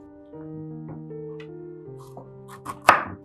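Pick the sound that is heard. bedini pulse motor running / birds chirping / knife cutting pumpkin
knife cutting pumpkin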